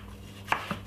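A knife chopping through a piece of red pepper on a board, two quick cuts close by against a quiet kitchen background, the first sharper than the second.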